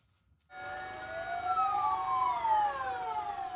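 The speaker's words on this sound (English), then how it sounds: "As sirens wailed, rescue workers in Mandalay stood still." An emergency siren wails in Mandalay after a deadly earthquake, rising out of near silence into a long sustained tone with slowly gliding overlapping pitches, loud and alone throughout.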